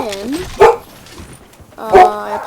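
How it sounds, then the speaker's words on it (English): A dog barks twice in the background, each a short sharp bark about a second and a half apart, fairly loud and close in a room. "I apologize for my dog in the background."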